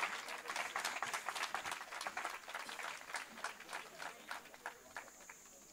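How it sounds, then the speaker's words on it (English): An audience applauds an Army pipe band at a literary festival. The clapping is moderately loud and fairly steady, with dense overlapping claps that ease off toward the end and no talking over them. "I request all of you to give a round of applause to the Pipe Band."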